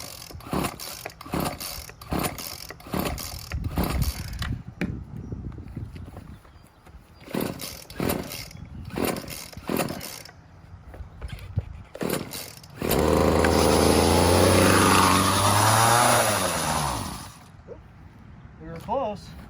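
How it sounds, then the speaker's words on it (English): A gas pole saw engine is started after a stretch of talk, catching with a loud, steady rising drone for about four seconds before it cuts out. "let's move on next to this pole saw, which is kind of interesting. Let's see if this runs."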